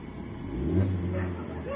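Proton Saga car engine with a CVT gearbox revs up close by, a short low swell of rising engine drone that peaks and settles, with a voice heard alongside.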